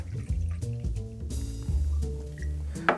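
Tequila pours into a jigger measure with a short burst of gurgling, splashing liquid, close and fairly quiet, in uneven glugs over a few seconds.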